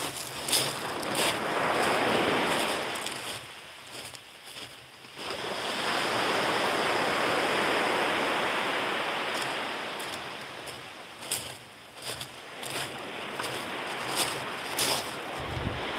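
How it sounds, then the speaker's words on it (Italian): Strong wind buffets the microphone while sea surf rolls and hisses along the shore at Catanzaro, a loud continuous roar that swells and eases, with brief clicks and thumps and no talk. "C'è vento stamattina"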